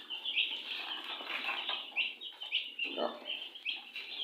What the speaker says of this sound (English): I have local turkey here.